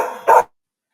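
A single short dog bark rings out near and fairly loud, a quick burst that cuts off into silence.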